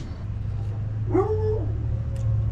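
A dog whimpers and lets out a short rising yip while waiting for food in a kitchen, one thin whine over a low steady household hum.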